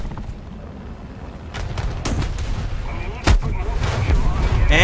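Heavy aircraft bombs detonate in War Thunder, a series of loud booms and rumbling blasts with a sharp crack near the three-second mark, over a continuous low battle rumble.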